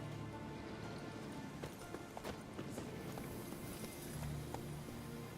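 Horse hooves galloping in The Witcher 3, a steady, busy clip-clop running throughout at moderate loudness over a dense game soundscape.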